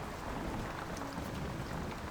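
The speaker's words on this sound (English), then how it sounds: "pouring down with rain" Heavy rain hisses down over choppy waves at sea in Silent Hunter 5, a dense, constant wash of noise with no breaks and no voices.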